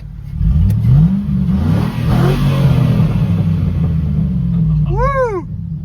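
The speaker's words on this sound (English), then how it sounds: "Here's a quick rev for you guys." A Chevrolet Suburban's engine revs hard with the exhaust cutout valve open, a loud, close rumble rising and falling through a few throttle blips before settling into a burbling idle.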